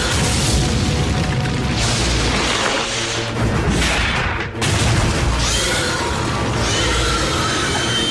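Weapons fire in a Transformers Prime cartoon battle: loud, dense volleys of blasts and booms crowd together continuously, with one brief lull midway.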